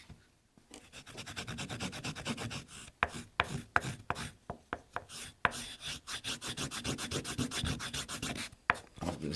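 Rubbing compound worked onto a Flexcut leather slip strop, giving a steady scratchy rubbing texture broken by short sharp strokes, close and fairly loud throughout.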